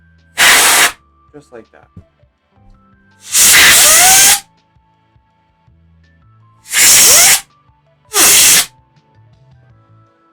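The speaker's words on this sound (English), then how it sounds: "taking our can of air, angling the straw and not the can itself" Compressed air from a can blows through a straw to dust a laptop: four loud, close hissing bursts of about one second each, separated by quiet gaps, with brief talking between them.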